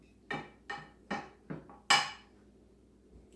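Metal spoon scraping and tapping in a baking dish while smoothing out meat for a cheeseburger casserole, five quick, close knocks, the last the loudest.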